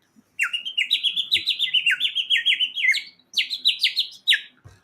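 A small 3D-printed bird whistle filled with water, printed in Polymaker filament, warbles in a long run of bright, bubbling chirps and trills, loud and close, with a short break before a few final tweets.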